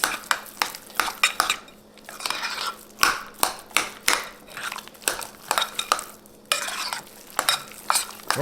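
A spoon stirs a lasagna meat mixture with crushed red peppers in a pan, a sizzling fry running beneath repeated sharp scraping and clinking strokes in an uneven rhythm, close and loud, with no talk.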